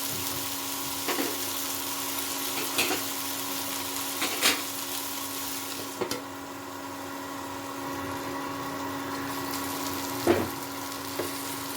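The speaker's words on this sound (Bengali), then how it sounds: "ঢাকা দিয়ে আর একটু ভাজা করতে হবে।" Eggplant with spices and chopped tomato frying in a covered pan, a constant moderate sizzle with a few sharp pops and clinks of the lid or spoon, no voices.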